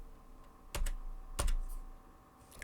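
Two sharp, separate key presses on a computer keyboard, such as Enter or arrow keys used to move around a table in note software, clicking close up in a quiet room.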